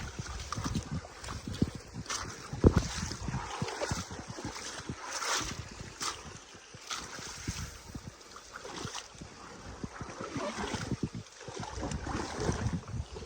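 Splashing and sloshing of someone wading on foot through a cold forest stream, continuous rough water noise with wind buffeting close to the microphone.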